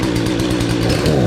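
A Husqvarna 240 chainsaw with a running problem idles and revs close up, a loud rough buzzing engine with a pulsing, uneven rhythm throughout.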